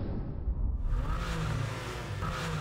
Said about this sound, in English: Nothing like a superfluous sound of a supercar engine revving to get the adrenaline going.